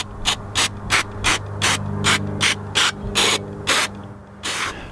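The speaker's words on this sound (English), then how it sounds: "I'm going to start out and just spray it down with some throttle body cleaner" Throttle body cleaner sprayed from an aerosol can onto the dirty throttle body of a 2007 Chevy Trailblazer, about a dozen short, close, loud hissing bursts in quick, fairly regular succession over a low steady hum.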